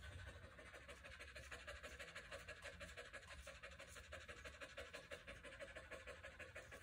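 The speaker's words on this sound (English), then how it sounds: "so we got some stress panting going on" A Standard Schnauzer pants fast and steadily under stress while its coat is hand-stripped during grooming, a close, even, rhythmic huffing that keeps going throughout.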